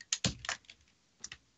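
Computer keyboard typing during a conference talk: a few quick, distinct key clicks in a short burst, a pause, then two more taps, close and fairly quiet with no talk.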